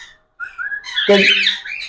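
Close, loud cockatiel calls: whistled chirps followed by a harsh, raspy squawk, all within a couple of seconds.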